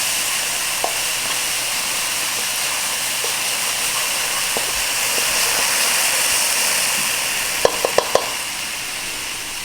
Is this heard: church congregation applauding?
no